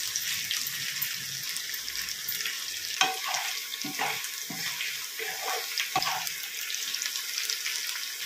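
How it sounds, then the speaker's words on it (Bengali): Potatoes and cauliflower tossed in a hot pan for a vegetarian winter vegetable curry, giving a steady sizzle with a few louder scraping stirs spaced across the stretch, close and alone with no talk. "আলুটা জাস্ট 1-2 মিনিট নাড়াচাড়া করার পরে এর মধ্যে ফুলকপিগুলো দিয়ে দিচ্ছি"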